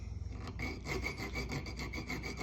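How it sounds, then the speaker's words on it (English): A small triangular file rasps across the steel liners of a handmade slip joint pocket knife in steady back-and-forth strokes, quiet and close with no talking. "I've used my little bit larger triangular file to go every other one."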